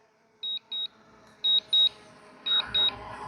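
A DJI Mini 4 Pro drone gives a return-to-home notification of six short, high electronic beeps in three quick pairs, clear above faint background noise.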